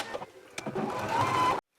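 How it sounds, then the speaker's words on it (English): A home sewing machine stitches together the side seams of a waistband: a short needle run starts up, hums steadily for under a second, then stops abruptly, with a few handling clicks before it. "I'm going to stitch the sides of the waistbands together."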